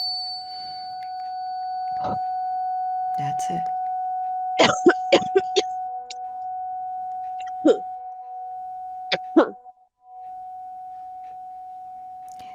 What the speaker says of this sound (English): I'm going to strike a tuning fork for your throat